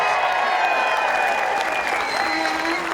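A crowd at a Washington County protest in Beaverton cheers and applauds for the mayor, Lacey Beaty, with loud continuous clapping, whistles and shouts filling the whole stretch evenly.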